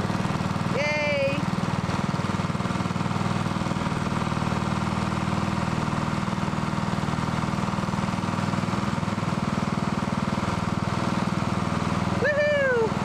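An old lawn mower engine from the early 1990s drones steadily and loudly at a constant idle, with a couple of brief high squeals near the start and end.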